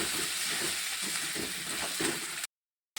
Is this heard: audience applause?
no